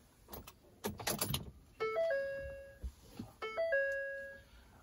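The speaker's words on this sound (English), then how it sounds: "I'm going to turn the vehicle on." A 2012 Ford F150 FX4 switches on with two clear electronic dashboard chime sequences of stepped tones, preceded by soft clicks and rustles nearby.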